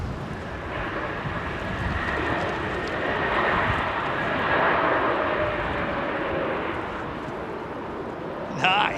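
An Embraer E2 jet at London Heathrow gives a steady broad engine roar with a faint whine, swelling slightly midway, heard from a distance with wind noise and some talking.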